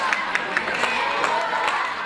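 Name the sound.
wrestling crowd cheering for Pandora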